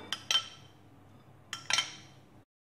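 A utensil stirs an egg, mayonnaise and sour cream pizza batter in a bowl, making two quick pairs of light clinks against the rim over a faint background, with no speech.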